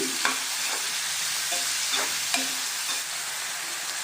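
Dry fish curry frying in a pan gives off a steady close sizzle, broken by soft periodic scrapes and stirring strokes, with no talk.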